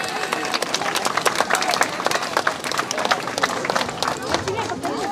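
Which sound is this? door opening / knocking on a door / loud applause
loud applause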